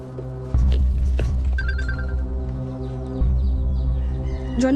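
A mobile phone text message notification tone chimes briefly over a steady background of dramatic music and low rumble, with no talking.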